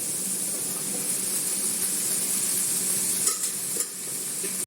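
Chopped onion and okra fry in a pan with curry leaves, giving an even, soft, continuous sizzle with a hiss. A couple of brief clatters come near the end, with no talking.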